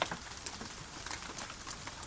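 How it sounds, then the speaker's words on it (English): Soft rain falls outside, a faint, continuous patter of scattered drops with no voices. "the soft sound of rain outside"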